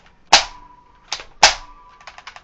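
A modified Nerf pistol fires with its air rushing straight out, giving two loud, sharp pops close up. Quieter mechanical clicks sit between them, and a quick run of clicks follows.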